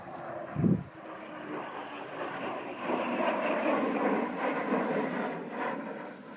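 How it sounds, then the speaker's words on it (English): A military aircraft flies over the former RAF Stenigot radar site in Lincolnshire, its broad engine roar swelling and holding steady in the distance, with a brief thump near the start. "Little clip there of a military aircraft just flying over."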